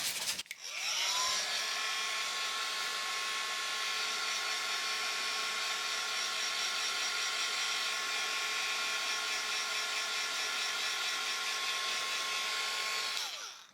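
A handheld heat tool dries paint and gesso on a craft art project, a steady whirring blower roar holding constant for over ten seconds, close and fairly loud, with no talking.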